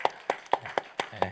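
Six slow, evenly spaced hand claps at a church Wednesday prayer meeting, each a crisp separate smack with short gaps between, fairly soft and close, as a brief clap for the accompanist.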